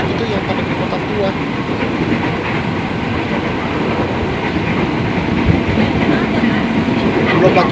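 A KRL Commuterline train runs on its rails near Jakarta, with a constant loud rumble and rhythmic wheel clatter filling the whole stretch, while voices murmur faintly underneath.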